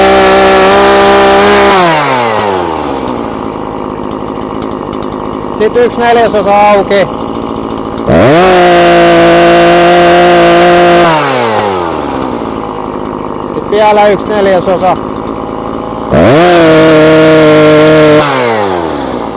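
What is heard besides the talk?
Husqvarna 340 chainsaw running during carburetor adjustment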